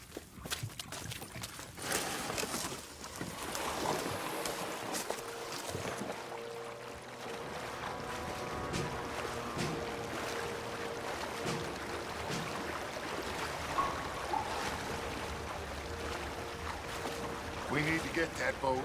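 Canoe paddling across calm water in the Red Dead Redemption 2 video game, a steady soft wash of water and wind with faint paddle movement throughout, layered under a quiet game ambience and low background music.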